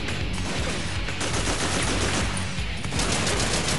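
Sustained rapid gunfire from a firefight in the video game Haze, loud and dense with overlapping automatic bursts filling the whole stretch without letup.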